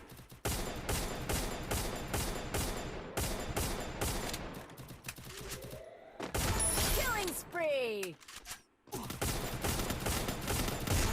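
Rapid bursts of gunfire from the Free Fire game, on its new map, crackle in dense automatic volleys, broken by brief pauses and whooshing effects.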